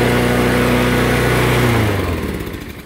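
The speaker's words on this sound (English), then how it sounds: "This is a 160cc engine." A Craftsman lawn mower with a 160cc engine runs loud and close, a steady buzzing drone that drops in pitch and winds down toward the end, with no talking.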